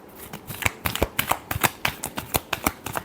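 A deck of tarot cards is shuffled by hand, giving a quick, even run of crisp riffling snaps and flicks, close and fairly loud, with no voice over them.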